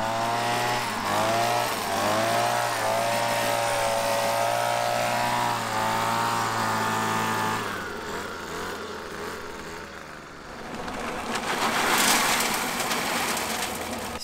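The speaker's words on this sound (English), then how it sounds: "this probably is the legitimate last mow" A lawn mower cuts grass during a late-season final mow in the Midwest; its engine drones steadily and close, with a shifting pitch that drops and thins partway through before swelling again.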